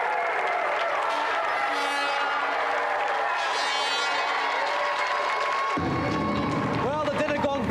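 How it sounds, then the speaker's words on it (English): A theatre audience applauds and cheers in a steady, dense wash of clapping that runs throughout, with a tone rising near the end. "that's another round of applause again for Auntie Marisha and Letty Edwards"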